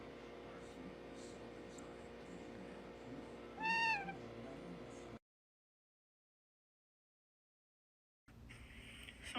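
A pet bird mimics a cat's meow with one clear, rising mew over a steady indoor hum, followed by a few seconds of silence before the background noise returns.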